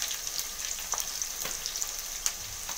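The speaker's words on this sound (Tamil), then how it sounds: "நல்லா கிளறி விடுங்க." A Tamil fish gravy masala fries in a pan with a soft, steady sizzle, broken by light intermittent scrapes and taps of a spoon stirring it; no voices.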